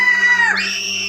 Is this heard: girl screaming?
yes